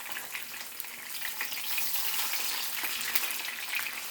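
Sirloin chops frying in a pan, a close, continuous sizzle with a crackling hiss that swells slightly midway, with no talk.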